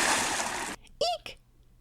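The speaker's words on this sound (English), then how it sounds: "she suddenly heard a splash" Water splashes in a swamp: a loud, broadband burst lasting about three quarters of a second, followed by brief, fainter sloshing and dripping sounds.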